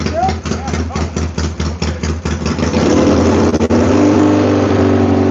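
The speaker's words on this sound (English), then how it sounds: "That's a good sounding bike right there. Nice Triumph motorcycle." Triumph motorcycle engine idling at an outdoor motorcycle swap meet, a steady loud rumble close by, with a short throttle rise and people talking nearby.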